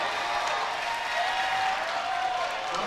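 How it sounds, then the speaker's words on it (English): Steady applause from a modest crowd at a high school basketball senior night in a gym, a soft continuous clapping wash heard from a distance, fairly faint with no talk over it. "we're starting to hear a little bit more noise now. And some ovations for some of those seniors coming off the floor"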